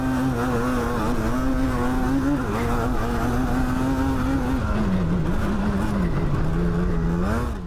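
Yamaha Banshee quads race downhill on a dirt track, their two-stroke engines droning loud and continuous, pitch wavering and dipping as throttle shifts, with no talk over the sound.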